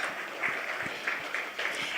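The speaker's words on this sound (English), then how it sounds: "Please give him a round of applause." Applause from a conference audience, a faint, distant patter of many hands clapping for about two seconds.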